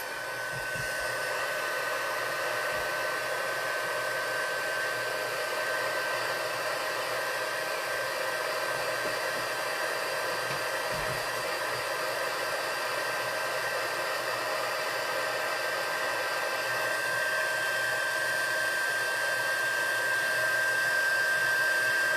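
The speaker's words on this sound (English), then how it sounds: "we're going to do some heat embossing on this." A heat embossing tool blows hot air over a stamped paper card, a steady, even hiss like a small hair dryer that runs without a break, close and alone.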